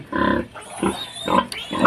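A pig grunts several times in short, rough bursts close by, with brief pauses between the snorts.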